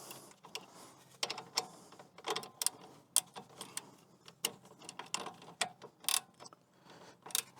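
A ratchet turns a through socket during a DIY service on a 2.0 TDCi Vauxhall Insignia, giving close, irregular bursts of sharp clicks and ratcheting ticks with quiet gaps, no talk.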